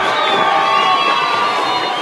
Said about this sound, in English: we just need our crowd to quiet down